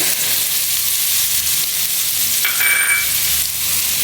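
Spices fry loudly in hot oil for karela chana dal, with salt, turmeric, black cumin and green chilli in the pan, giving a close, continuous sizzle and a brief stirring scrape partway through.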